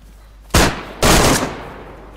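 Two sharp, loud bursts of gunfire from a firearm in the survival video game DayZ, the first around half a second in and the second, longer burst a beat later, each fading into a faint, noisy background.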